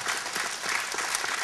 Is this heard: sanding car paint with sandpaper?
no